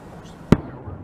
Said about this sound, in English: Fireworks. Congratulations to the White Sox spot.